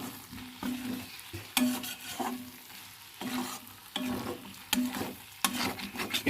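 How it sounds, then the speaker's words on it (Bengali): Whole garlic cooking slowly over very low heat in a covered pan, stirred so it does not stick, with a gentle sizzle and rhythmic scraping strokes of a spoon against the pan, close and quiet. "এটা আমি আবার ভালো করে নেড়ে দেবো, যাতে তলে লেগে না যায়।"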